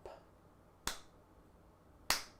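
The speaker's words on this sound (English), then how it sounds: "the slow clap." Two sharp, isolated claps spaced over a second apart form a slow clap, crisp and close in a quiet room with no talk.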